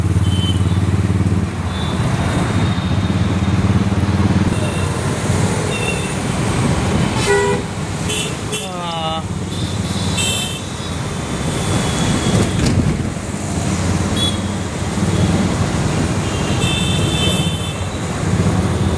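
Busy Mumbai street traffic with engines rumbling and repeated car horns honking, loud and close, one high whistle-like toot standing out midway.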